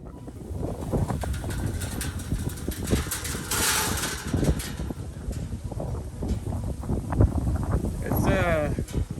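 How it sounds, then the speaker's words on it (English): Gusty wind blows outdoors on a pig farm, buffeting the microphone with loud rumbling bursts, while a person speaks over it. "pretty windy in my area"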